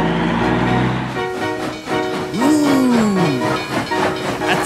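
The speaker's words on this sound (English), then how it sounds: "Ooh, that's a train." A train in a children's vehicle-sounds lesson, heard as a loud rumbling run with a rising then falling whistle-like tone sweeping across the middle, and no talking over it.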